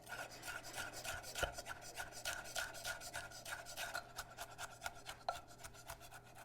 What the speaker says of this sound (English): Now I'm just gonna mince the jalapeno.